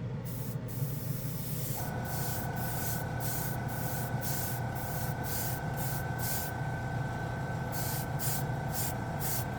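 An airbrush hisses steadily in short repeated bursts spraying Vallejo Metal Color acrylic paint, a constant compressor hum running underneath, close and continuous with no voices.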